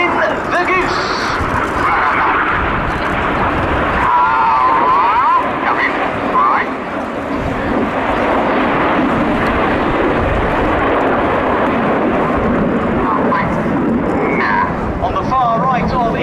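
A Red Arrows Hawk jet, a lone aircraft flying through a V formation at an air show, gives a loud sustained roar with wind buffeting throughout, and a commentator speaks over it.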